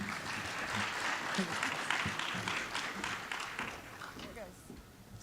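Audience applause welcoming a biology researcher to the lecture stage, a steady wash of many hands clapping that holds for several seconds and thins slightly toward the end.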